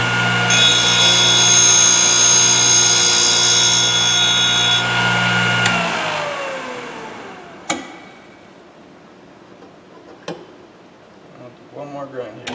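A Thorvie AV-40 sharpening machine grinds a router bit, producing a loud sustained tonal whine that winds down and stops, then a couple of sharp isolated knocks and brief contacts.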